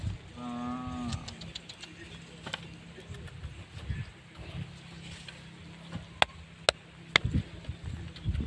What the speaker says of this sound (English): the cow who has patches, white and black patches, is the one that is going to be exchanged